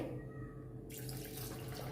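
Running water pours steadily from a tap into a pot of soaked lentils and rice, starting partway through and continuing as a broad, close rushing hiss to the end.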